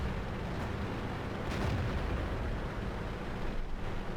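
Tank cannon fire in World of Tanks during a Sherman Jumbo match: a dense, sustained rumbling blast with booming low end filling the whole moment, loud and without talk.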